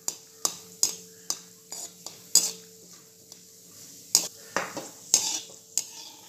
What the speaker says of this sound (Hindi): ड्राई फ्रूट मैं फ्राई कर रही हूँ